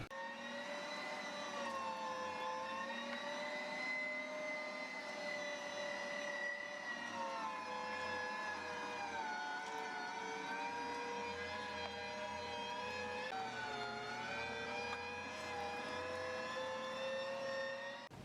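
An electric meat grinder working through very cold, partly frozen meat for grilled shish kebabs on a large grind, giving a steady, even motor hum with a slight pitch dip partway through, alone.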